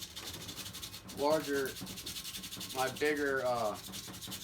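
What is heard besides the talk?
sanding metal with 3M metal and steel sandpaper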